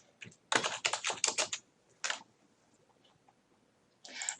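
Close computer keyboard typing while a quiz name is entered in a Moodle 3.8 course page: a dense burst of rapid keystrokes, a short second burst, a quiet pause, then typing resumes at the end.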